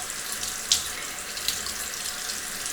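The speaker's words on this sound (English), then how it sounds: "we're gonna wash it off now" A tap runs steadily into a sink while a face mask is being rinsed off, a continuous hiss of water with a couple of brief splashes, close by and with no one talking.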